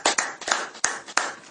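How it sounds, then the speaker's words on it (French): A church congregation applauding: a few sharp, distinct claps in quick succession, close and fairly loud, with short gaps between them. "Acclamons très fort."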